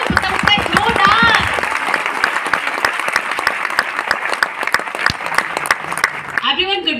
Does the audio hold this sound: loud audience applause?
yes